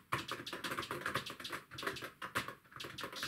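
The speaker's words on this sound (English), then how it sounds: "the noise of the keys versus the noise coming out of the Spectrum" A ZX Spectrum computer keyboard is typed on with quick, irregular key taps, close and fairly quiet, continuing steadily with no voice over it.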